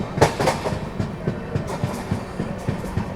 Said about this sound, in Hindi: अभी कोई तो ट्रेन जा रही है ऐसे ब्रेक्स के साथ